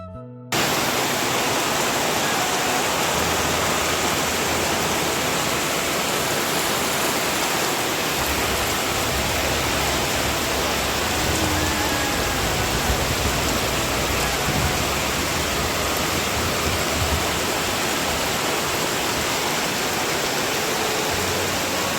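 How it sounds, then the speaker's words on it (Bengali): Heavy rain pours down outside near a kitchen, a loud, unbroken roaring hiss that holds steady the whole time with no voices. "আর এতটা বৃষ্টি চলে এসেছে"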